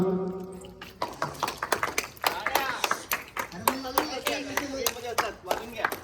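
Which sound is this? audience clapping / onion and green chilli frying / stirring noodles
audience clapping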